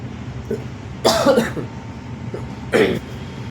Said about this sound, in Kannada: ಸ್ವಲ್ಪ ಕೆಮ್ಮು ಸ್ಟಾರ್ಟ್ ಆಗಿತ್ತು